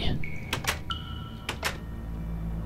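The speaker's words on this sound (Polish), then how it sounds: "Ach, te drzwi." A door creaks and swings open in a horror video game, with a few sharp mechanical clicks and a brief whine over a low ambient drone, close and fairly loud.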